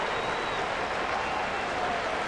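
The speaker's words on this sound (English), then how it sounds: "Nice round of applause" Baseball fans at a Toronto ballpark give a steady round of applause, a dense, even clatter of many hands with no voices standing out above it.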